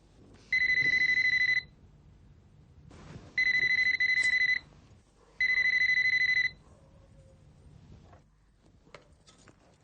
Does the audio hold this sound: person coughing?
no